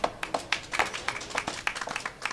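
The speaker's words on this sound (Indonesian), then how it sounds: "Cocok cocok tepuk tangan tepuk tangan" Scattered clapping from a small audience at a Javanese traditional performance, individual hand claps close and uneven, bunching into quick bursts rather than a continuous roar.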